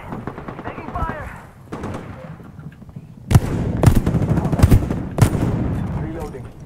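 Apex Legends video game gunfire: scattered distant shots at first, then loud close bursts of automatic fire with heavy impacts, under voices talking.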